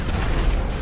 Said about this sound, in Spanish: Nos gusta hacerlo con explosión y todo.